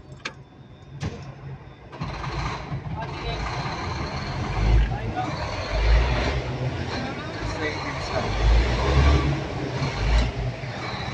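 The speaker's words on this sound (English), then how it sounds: "See the engine sound." A CAT 966H wheel loader's diesel engine is started and revved up and down: a low rumble swells in repeated surges after a few sharp clanks, with someone talking over it.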